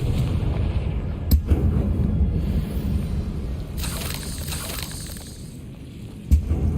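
In the video game Hogwarts Legacy, a Confringo spell is cast and explodes with loud, booming blasts over a rumbling game soundscape, with sharp bursts near the start and end.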